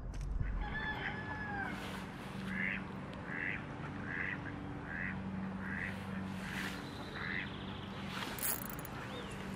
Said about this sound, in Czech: Hele, kačere, pozor.